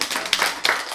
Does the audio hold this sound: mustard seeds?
no